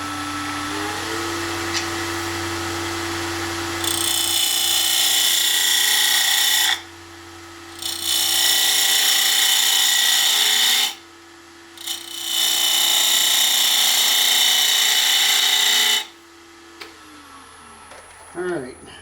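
Wood lathe turning a bowl blank, with a steady motor hum and three long bursts of bright, loud cutting noise as the tool takes wood off, separated by brief quieter pauses.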